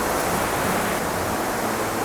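Rushing river swollen by overnight rain near Harpers Ferry, West Virginia, a steady broadband roar of moving water filling the scene without pause, heard alone with no voices.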